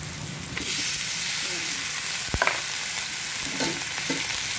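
Pork sautéing in a hot pan, a steady sizzle and hiss with scraping stirs and a few sharp clatters of the utensil against the pan, close and clear.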